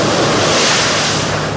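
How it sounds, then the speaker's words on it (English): Atlantic Ocean waves crashing on Nauset Beach, a loud continuous roar of surf with steady broadband wash and wind noise, no voices. "the crashing waves of the Atlantic Ocean"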